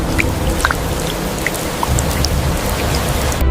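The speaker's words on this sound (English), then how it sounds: "Rain fell again" Rain falls steadily in a dense, even wash, with scattered distinct drops ticking close by over a low rumbling bed.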